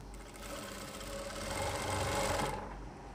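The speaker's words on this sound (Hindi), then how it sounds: "यहाँ पे लगा देंगे हम सिलाई" A sewing machine stitches a folded pant hem in one steady, close mechanical whir that swells slightly and then stops.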